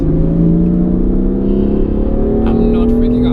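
A car accelerating flat out on a track gives a loud, sustained engine drone whose pitch climbs smoothly as it gains speed, heard close from inside the vehicle.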